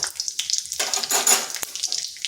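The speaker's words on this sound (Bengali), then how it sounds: "এরপর ওই তেলের মধ্যে ফোড়নে দিচ্ছি একটা শুকনো লঙ্কা আর দিচ্ছি জিরা" Dry red chili and whole cumin crackle and sizzle in hot oil left over from frying potatoes, a steady close spitting hiss that swells midway with sharp pops and spatters, no voices.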